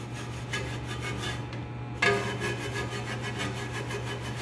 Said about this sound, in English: we'll go inside, really scrub this really good all the way around